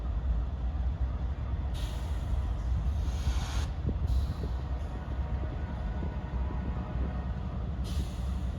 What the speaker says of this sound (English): That's the sound of the outbound train getting ready to stop in Framingham.